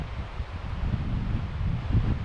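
Low, blustery wind from Storm Brendan buffets the microphone in a steady rumble at a winter campsite near Linn of Quoich, with gusts swelling and fading over a couple of seconds and no other sounds.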